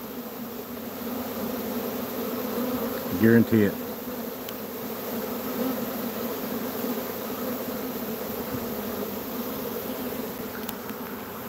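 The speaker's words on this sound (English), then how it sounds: "see bees coming back out of here? They hadn't found their queen yet." A dense, steady buzz of swarming honey bees that have not found their queen fills the air, with a louder bee passing close once and someone speaking briefly over it.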